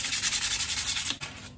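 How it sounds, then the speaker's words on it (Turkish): Rapid back-and-forth hand sanding of gas stove burner parts with sandpaper, a close, steady rhythmic scrubbing that stops abruptly near the end. "Şimdi şunlarla hemen ben zımpara yapayım hızlı hızlı."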